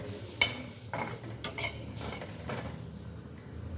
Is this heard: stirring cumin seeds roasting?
yes